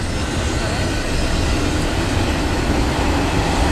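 A very long Canadian freight train hauling double-stacked containers rumbles past, loud and continuous, a dense steady roar of wheels and cars with no pause throughout.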